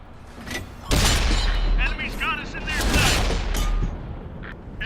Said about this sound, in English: And we get 3 shots in quite nicely.